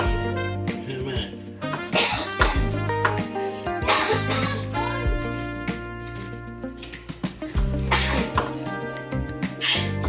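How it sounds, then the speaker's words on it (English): Several loud sneezes burst out one after another, mixed with coughing and throat sounds, over a dense background of music. Everything sounds close and busy. "Oh, your sneeze sounds weird."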